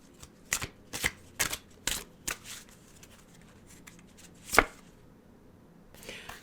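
Tarot cards being shuffled and pulled for a love reading, heard as a series of sharp, close riffles and snaps, several in quick succession and then one more after a short pause, with quiet gaps between.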